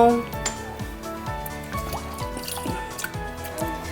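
Water dripping and trickling steadily from boiled potatoes drained in a kitchen for French fries, a rapid series of close, light drips and splashes with a faint voice underneath.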